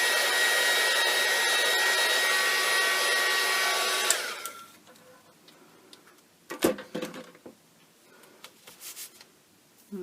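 A handheld hair dryer blows loudly and steadily for about four seconds while drying art journal prints on paper, then shuts off, leaving quiet handling clicks and paper taps.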